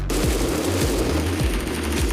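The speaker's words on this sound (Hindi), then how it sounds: "देखो उधर से आ रही थी फायर" Rapid automatic gunfire in a battle royale video game, loud close bursts of repeated shots in a steady rhythm, about five clusters over two seconds, with no talking.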